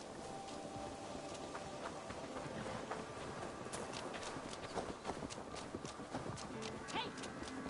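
Horse hooves clip-clop steadily in Assassin's Creed Valhalla, a continuous rapid trotting rhythm under game ambience, with a person talking over it.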